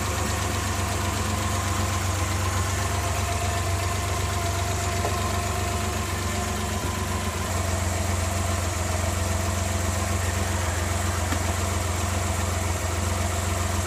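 Suzuki F6A engine in a Multicab idling with the PCV breather removed, a steady, even mid-pitched running hum with a constant low drone, unbroken and close throughout, with no talking.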